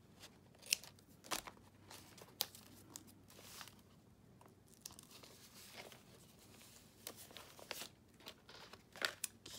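Paper being cut with scissors while making a Bible journal page, heard as quiet crisp snips and crinkles scattered irregularly across the clip, close up with no talking.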